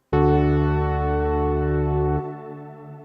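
A full guitar chord struck once through a Strymon BigSky MX, sustained in a wide, washing stereo spring and shimmer reverb, then cut short, leaving a faint shimmering tail.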